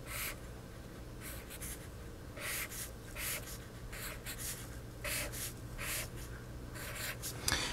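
Marker or chalk strokes on a board come in short bursts of scratchy, rubbing sound separated by brief pauses, close and moderately quiet, with no talking over them.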